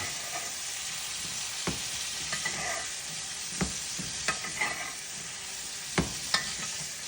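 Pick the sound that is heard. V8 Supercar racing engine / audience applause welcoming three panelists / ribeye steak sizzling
ribeye steak sizzling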